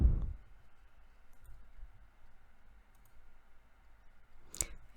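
A computer mouse clicks once, sharp and close, in an otherwise quiet room, a single crisp tick near the end after faint low background hum.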